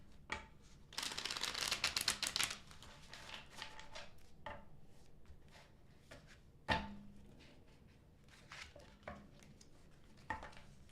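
Tarot deck being shuffled close by, a dense burst of riffling card flutters early on, then scattered softer taps, slides and clacks as the cards are handled in a quiet room.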